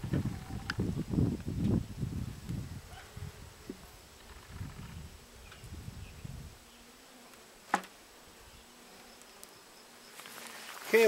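Honeybees hum around an open hive while comb frames are worked during checkerboarding, a low, steady buzz that is loudest at the start, fades gradually, and ends with a sharp knock and a rustle.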